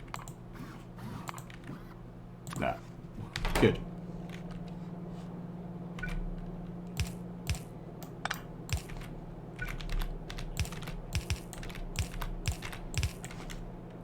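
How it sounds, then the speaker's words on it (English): Rapid keystrokes on a computer keyboard, clicking in quick irregular bursts close by over a steady low hum, with a brief spoken word or two near the start. "start typing."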